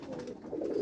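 Pigeons cooing in a pigeon loft, soft low throaty coos close by, brief and continuous with no talk over them.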